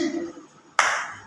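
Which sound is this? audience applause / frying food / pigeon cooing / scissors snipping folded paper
audience applause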